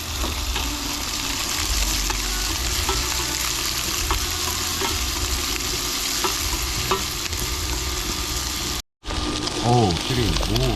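Steady loud sizzling of onions frying in a pan, with a brief cut near the end followed by more sizzling and faint movement.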